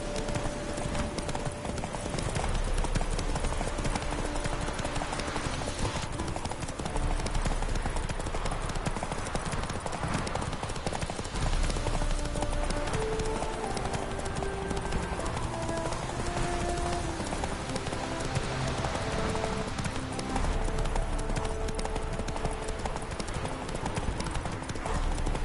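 Roach the horse's hooves clip-clop steadily and continuously in The Witcher, close and prominent over a constant layer of game ambience and music, with an occasional faint snort.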